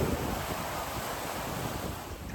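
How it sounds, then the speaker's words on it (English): Strong gusty wind roars steadily across the microphone beside a narrowboat moored at a river lock, a dense, unbroken rush of noise with no voices. "Pretty windy today,"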